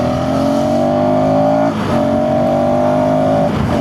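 A 2026 KTM ADV 350 adventure motorcycle accelerates hard in first gear, its engine loud and close, rising steadily in pitch with two brief dips as it pulls away.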